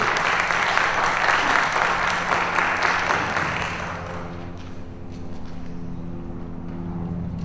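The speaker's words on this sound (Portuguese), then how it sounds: "aplausos." A film festival audience bursts into loud, dense applause that fades after about four seconds, leaving a low hum and faint murmuring in the room.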